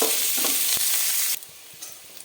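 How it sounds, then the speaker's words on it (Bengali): Onions frying in a pan for a radish fry, a loud, dense sizzle for just over a second, then a sudden drop to a quieter crackle with a few light stirring scrapes. No one speaks. "আমার পেঁয়াজটা ভাজা হয়ে গেছে"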